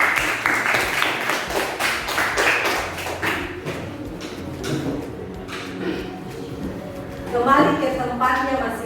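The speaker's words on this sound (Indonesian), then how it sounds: "Tepuk tangan." A primary school class claps for a group of classmates, with rapid rhythmic claps at first that fade into scattered taps and shuffling, while children's voices chatter in the room.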